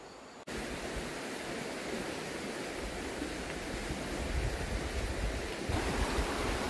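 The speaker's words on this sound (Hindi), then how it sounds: "यहाँ से वो झरने का आवाज़ सुनाई देता है।" Steady, dense roar of a waterfall swollen by heavy rain, loud and continuous, swelling slightly near the end with no voices.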